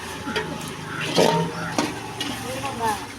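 Mint and coriander are stirred into a turkey biryani masala. Gentle frying sizzles under scraping stirs and a few utensil knocks against the pot, while people talk close by.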